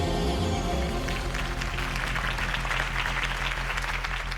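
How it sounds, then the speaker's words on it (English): A crowd bursts into loud, sustained applause with some cheering in a Batman Telltale video game scene, dense clapping filling the whole stretch. "could have heard that applause"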